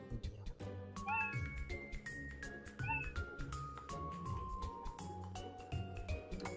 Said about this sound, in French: des petits chats qui miaou.